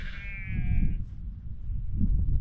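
Sheep on open fells in the Scafell area give one loud, wavering bleat that fades after about a second, followed by rumbling wind noise outdoors.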